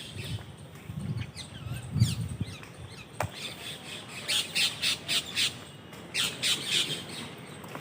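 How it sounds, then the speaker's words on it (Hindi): Pigeons at Jhansi Fort call close by, with soft low murmurs at first and then a rapid series of sharper, repeated bursts. "दो कबूतर हैं"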